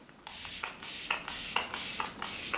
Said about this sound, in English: I'm just gonna spray my face for the last time.